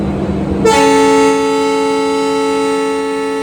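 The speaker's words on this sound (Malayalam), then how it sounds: "അങ്ങനെ നീട്ടിയൊരു ഹോൺ അടിച്ച് നമ്മുടെ ലോക്കോ പൈലറ്റ് വണ്ടി എടുത്തിരിക്കുകയാണ്" A diesel locomotive's horn blasts suddenly and holds one long, loud, steady chord to the end as the train departs, with a low engine rumble underneath.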